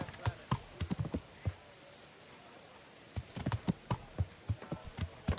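Galloping horse hooves in the medieval game Kingdom Come: Deliverance, a burst of rapid clip-clop beats, then a quiet gap, then the hoofbeats return and come closer with a short whinny at the end.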